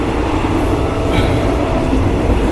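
A near-empty passenger train on the Thailand border line running fast, a loud, steady rumble and rush of wheels on rail heard from inside the carriage, unbroken throughout.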